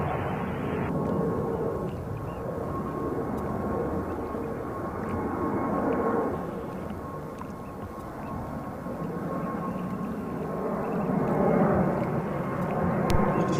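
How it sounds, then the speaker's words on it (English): Steady roar of a JetBlue Airways Airbus jet departing JFK, a broad sustained rumble with a thin tonal whine, heard at moderate distance and swelling slightly near the end. "This would be JetBlue Airways flight 6679 departing JFK to Milwaukee, Wisconsin"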